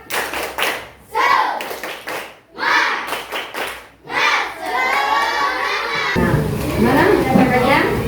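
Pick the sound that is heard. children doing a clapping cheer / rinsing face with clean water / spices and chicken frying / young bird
children doing a clapping cheer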